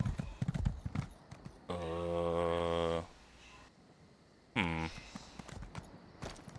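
Horse hooves clip-clop in Elder Scrolls Online as a mount is summoned, with quick, close steps joined by two sustained tonal bursts of game sound.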